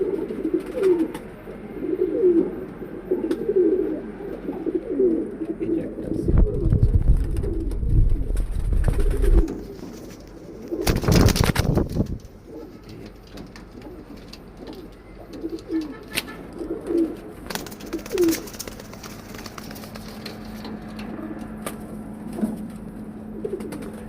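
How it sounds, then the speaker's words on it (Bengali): Pigeons of mixed ages, new and old birds kept together, cooing in repeated low throaty calls throughout, with rustling, a burst of wing-flapping noise and a few sharp knocks partway through. "নতুন কবুতরও আছে পুরান কবুতরও আছে সব ধরনের কবুতর মিলানো"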